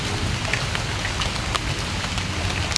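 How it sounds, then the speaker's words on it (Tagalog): Heavy rain pours down steadily outdoors at a coconut dwarf-variety planting site, a dense, loud, continuous hiss of drops hitting surfaces with no voices. "Tapos malakas na ulan."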